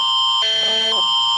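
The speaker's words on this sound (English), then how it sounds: "if the alarm go off, you know what I mean, I guess they doing a drill or whatever" An emergency alarm sounds close and loud: a sustained electronic tone that changes pitch in the middle, then returns to the first tone, with no voices over it.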